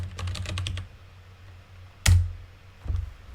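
Quick burst of typing on a computer keyboard, several close, crisp key clicks in a rapid run, followed by a pause and a couple of louder isolated keystrokes.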